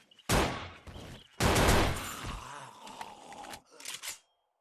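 Burst-fire gunshots from a weapon in the survival game 7 Days to Die, two loud close bursts followed by trailing mechanical rattles and a final short burst before silence.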